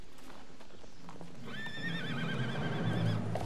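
Horse neighing in the video game Gun: a wavering whinny rises midway and holds for about two seconds over a steady bed of clip-clopping hooves and game ambience.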